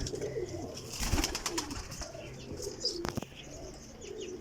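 Domestic pigeons coo repeatedly in a breeder's loft, soft low calls recurring close by with a few chirps and brief wing-flutter noises mixed in, no talking.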